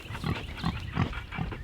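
Pigs on a forest farm grunt in four steady, close, fairly loud bursts about a third of a second apart, with no talking.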